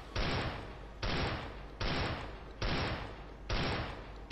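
Five loud Desert Eagle pistol shots in Counter-Strike: Global Offensive, fired singly at a steady pace about a second apart, each a sharp blast with a short rumbling tail.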